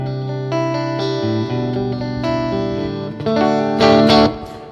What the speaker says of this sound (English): So with the reverb on a bit, you have the tremolo coming in.